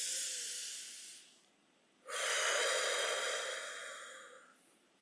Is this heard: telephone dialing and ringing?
no